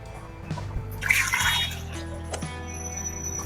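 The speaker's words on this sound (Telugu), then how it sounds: "ఎగ్స్ మునిగేంత వరకు వాటర్ పోసి ఉడకబెట్టాలి వీటిని" Water pours briefly into a pot of six eggs for boiling with a splashing gush lasting about half a second, followed by a few small knocks and clinks close by.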